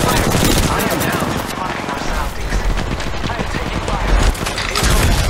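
Rapid gunfire crackles nonstop in the Apex Legends Mobile beta, loud and dense, with overlapping shots and a busy game soundtrack around it.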